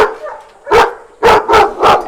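At a farm kennel housing many large-breed dogs, a dog lets out four loud, close barks, one single and then three in quick succession, with short quiet gaps between them.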